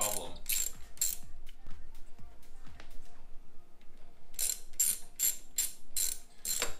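A hand ratchet loosens bolts from the hinge brackets of a Jeep JK during a tire carrier install, giving short bursts of quick clicking, close and fairly quiet, with pauses between strokes.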